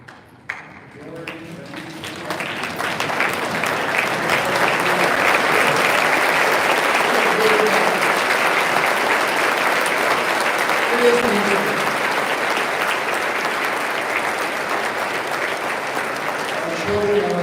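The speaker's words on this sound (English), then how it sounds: "everybody stand and give a rousing applause to the participants, the scholars" Standing audience at an awards event breaks into sustained applause for the participants and scholars, a dense wash of clapping that swells within two seconds and holds steady and loud throughout, with faint voices mixed in.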